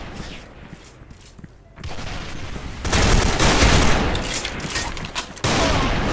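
Sniper and other gunfire in the S.K.I.L.L. Special Force 2 shooter game, dense rattling volleys that swell after a quieter start, with faint game noise and possible brief voice underneath.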